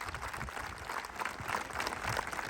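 An audience at a talk for degree college girls in Telangana claps continuously in thanks to the government, a dense steady wash of applause throughout.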